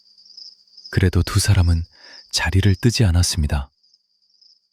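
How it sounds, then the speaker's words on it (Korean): Autumn crickets chirping outside a window as a sound effect, a steady high trill that runs faintly throughout while a narrator speaks over it in the middle. "창밖에서 가을 귀뚜라미가 울었습니다."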